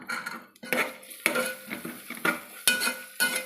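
Coriander leaves and mint stirred in a pan for green karamani biriyani, with repeated scraping and clinking of a utensil against the pan over a soft sizzle, close by.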